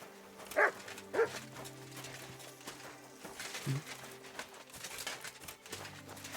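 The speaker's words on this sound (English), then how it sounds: "That is the first time you barked." A dog in the video game Kingdom Come: Deliverance II gives a few short barks near the start, followed by a soft whine, amid quiet game ambience and faint bird calls.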